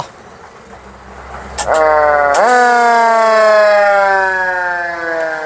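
Siren fitted to a customised Isuzu Elf NMR130 truck with air brakes, sounding a loud rising and falling wail that starts abruptly, restarts once and then holds a steady howl close by.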